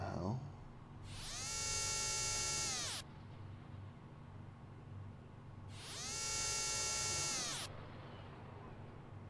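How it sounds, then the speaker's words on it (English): A high-pitched mechanical drilling whine sounds during a scene in the video game Xenogears, coming in two loud sustained bursts of about two seconds each, separated by a pause over a low background hum. "I would scream at whoever's making that drilling noise"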